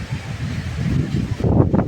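Strong wind gusts buffet the microphone in a low, rumbling roar during a rainstorm in Theni, surging and intensifying near the end.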